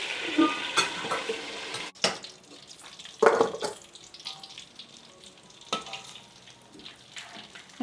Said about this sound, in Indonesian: Lanjut goreng ikan lele.